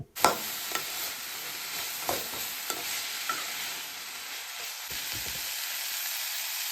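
Tomato pieces fry in a pan for a village-style bottle gourd curry, giving a steady hiss of sizzling oil broken by several clacking stirs of a spoon against the pan.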